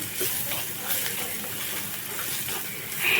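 Tomato being stirred into a sautéed mixture in a pan for a Kerala pulicharu-style curry, a steady close sizzle and frying hiss with soft scraping of the spoon throughout, alone with no talk.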